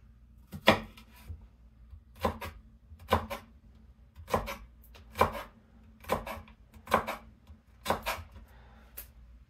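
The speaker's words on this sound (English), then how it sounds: "Let's cut off this edge." A knife chops through food on a cutting board, trimming off an uneven edge with about seven sharp, evenly spaced strikes that ring out clearly against quiet background hum.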